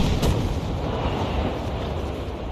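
Video game explosions and artillery fire make a dense, loud wash of booming blasts and rumble, with a sharp burst at the start and continuous crackling thunder behind it.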